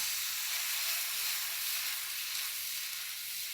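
Pesarattu batter sizzles on a hot griddle with a loud, continuous, close hiss that holds steady from start to finish and is heard alone.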